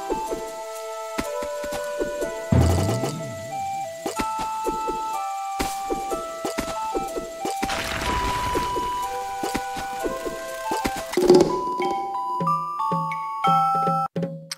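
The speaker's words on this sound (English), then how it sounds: "The music's pretty good. I will let you listen to that right now." Bright chiptune-style background music from the casual platformer Mitch: Berry Challenge plays with bouncy melodic notes and occasional game sound effects, lasting throughout with no talking.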